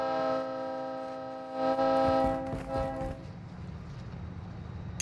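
In Call of Duty MW2, a train passes close by with a sustained, chord-like horn blast over rumbling, clattering wheels, then the horn cuts off and the rolling rumble carries on.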